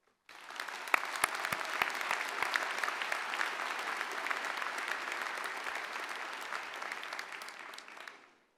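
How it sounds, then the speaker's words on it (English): A UC Davis graduation crowd breaks into sustained applause, a thick wash of many clapping hands that swells quickly, holds for several seconds and then fades out. "please give yourself and your loved ones, those who have provided you the support and the inspiration you needed to reach this day, a big round of applause."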